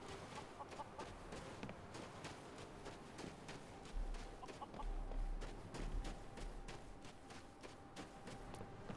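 Several chickens in Skyrim cluck steadily at moderate volume, a busy farmyard chorus with short repeated calls and a faint low rumble underneath.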